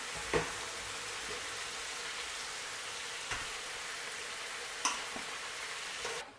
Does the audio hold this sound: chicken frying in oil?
yes